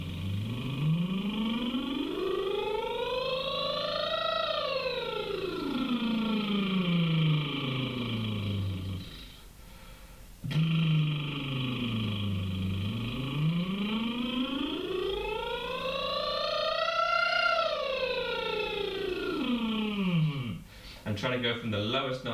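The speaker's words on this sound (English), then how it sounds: "So I'm going to use the lip trill slightly nice and low and high 3 times." Vocal lip trill warm-up in a school singing class: a buzzing voice glides smoothly from low to high and back down twice in long continuous sweeps, with a short pause between, close and clear.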